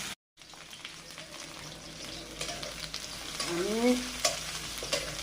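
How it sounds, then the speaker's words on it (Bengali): Mrigal fish fry in a pan with a steady, close sizzle and occasional stirring scrapes that grow a little louder, while a voice briefly speaks over the frying. "মাছ ভেজে নিচ্ছি। মৃগেল মাছ।"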